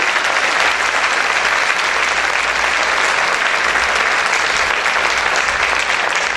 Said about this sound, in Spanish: Aplaude fuerte al Rey.